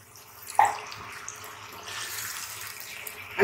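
A cup of water is poured into a pan of fish and potato curry in a Bengali home kitchen, a brief splash followed by soft trickling and faint bubbling, quiet and close.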